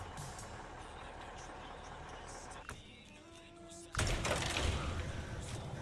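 A truck engine in the video game SnowRunner cranks and then roars to life, a low whir with rising tones that gives way to a loud, rough idle, while someone talks over it.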